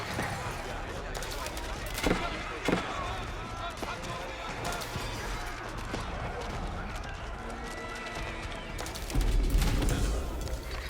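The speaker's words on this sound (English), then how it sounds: "Crossbow firing away." Crossbow archers firing in the strategy game Age of Empires, with repeated sharp clacks and volleys scattered through a busy battle din of hooves and clatter, while a voice talks over it.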